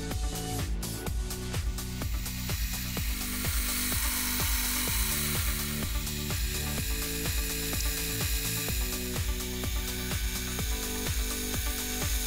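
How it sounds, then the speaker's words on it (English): Drilling and tapping threaded holes in a brass clock front plate to take the dial pillars: a steady, close mechanical grind with regular repeating strokes throughout, no speech. "each was then drilled and tapped to match the thread on the dial pillars"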